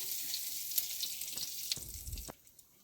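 Asafoetida hitting hot oil in a pan while chilli pickle is cooked, a brief hissing sizzle with a few pops and a low thump near the end, fairly quiet and with no talking.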